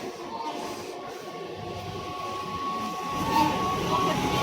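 A Mumbai local commuter train from Dadar to Virar rumbles steadily from inside, with a rolling rattle and a faint high whine, swelling slightly louder toward the end; voices murmur underneath.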